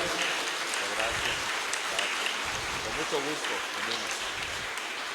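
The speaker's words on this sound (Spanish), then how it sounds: "Les demos un fuerte aplauso pues a nuestro párroco" A church congregation at a Mass for the feast of the Divino Señor del Pozo applauds for the parish priest in a steady wash of many hands, while voices murmur and talk beneath.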